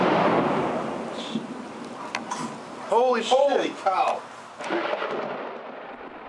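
Deep thunder rumbles through a Florida thunderstorm with rain hissing in the background, while a person exclaims loudly over the rolling booms.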